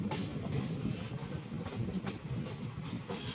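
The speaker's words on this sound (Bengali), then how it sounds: "কি স্পিডে গাড়িটাকে নিয়ে যাচ্ছে, কেননা ফাঁকা ট্রেন তো" An empty election special passenger train hauled by a WAG-9 electric locomotive runs fast near New Farakka Junction, giving a steady, loud rumble with rhythmic wheel clatter over the rails.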